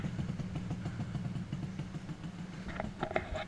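A Yamaha RD350LC two-stroke motorcycle engine runs steadily nearby with a low, busy burbling idle and light mechanical clatter, a few higher rasping blips near the end.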